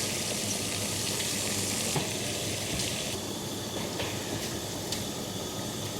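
Vegetable momos frying in a hot pan, a steady broadband sizzle and crackle running throughout with small pops, close and fairly loud, no talking.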